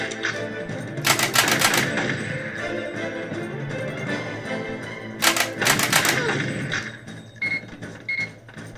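Gunfire in the arcade shooter Time Crisis: two loud bursts of rapid shots around one and five seconds, with scattered single pops later, amid game sound effects and shouted game voice lines.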